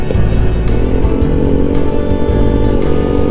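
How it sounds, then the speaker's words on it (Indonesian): Loud, continuous exhaust roar from a Honda PCX 160 scooter on a road tour, close by, with a throbbing rhythm and occasional revving pulses throughout. "Suara knalpot"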